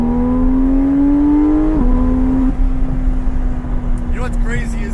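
A Porsche GT3 RS engine drones steadily under load, dips briefly at a quick smooth gearshift and then pulls on at a lower pitch, loud and close from inside the car, with a faint rustle near the end.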